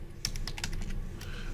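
Quick, light keystrokes on a computer keyboard, a short irregular run of soft clicks close to the microphone over a low background hum.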